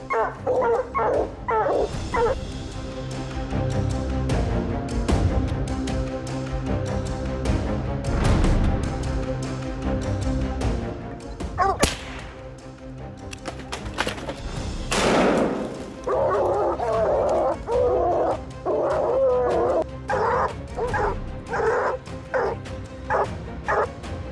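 Hunting dogs on a South African lion hunt bark and yip in loud, rapid overlapping bursts, with a few whimpers and a thump, filling the scene close by from start to finish.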